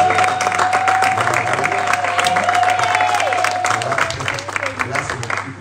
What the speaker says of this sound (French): On va se lever, on va acclamer le Seigneur pour elle.